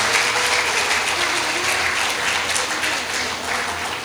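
An audience at a spiritual discourse during the Prayagraj MahaKumbh breaks into sustained, dense clapping that carries on steadily throughout without a pause.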